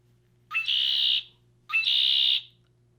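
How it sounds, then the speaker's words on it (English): Two loud, clear calls from a red-winged blackbird, each a short rising note followed by a sustained buzzy trill, heard alone against a quiet low hum. "That loud red-winged blackbird."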